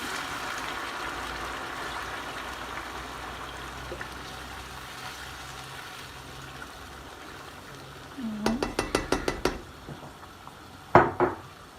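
Six and a half glasses of water are poured steadily into a pot for Turkish rice pilaf, making a soft, continuous rush. A series of sharp metallic clinks and knocks from the pot follows.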